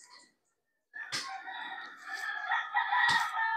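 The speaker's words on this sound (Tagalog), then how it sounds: "We only have few chickens here," A rooster crows nearby in one loud, drawn-out call after a brief quiet moment, its voice rising and wavering, with a sharp knock sounding during the crow.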